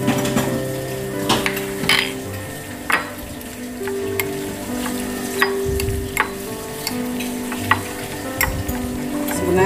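A spoon stirs gyoza filling mixed with sesame oil in a bowl, with repeated scrapes and taps in an uneven rhythm over a steady background hiss, close and fairly loud.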